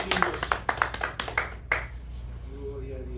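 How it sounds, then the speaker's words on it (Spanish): A church congregation claps during a Holy Week evening service, with a string of sharp separate claps that thin out into a quieter stretch where a voice comes in. "Aplauso fuerte, amigos."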